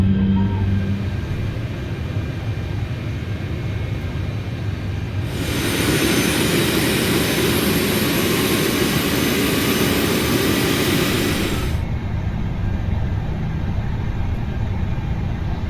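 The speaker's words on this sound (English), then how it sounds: "Starting engine number 1 and 2." Airbus A380 jet engines spooling up in a flight simulator, a broad steady roar that swells loudly in the middle and then drops back to a lower, constant engine hum.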